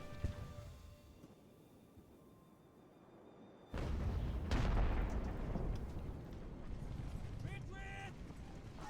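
Cannon artillery in the naval strategy game Ultimate Admiral: Age of Sail fires as a sudden loud blast, then rumbles and booms on under mechanical battle noise.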